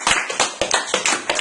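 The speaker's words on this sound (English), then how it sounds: "Big round of applause" A small group claps by hand before a football training session, producing a handful of distinct, separated clap bursts in a loose rhythm, close and fairly loud, with no talk over them.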